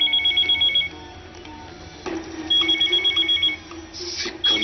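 A phone rings in repeated electronic trills, pausing briefly between bursts, clear and close with a quiet room behind it.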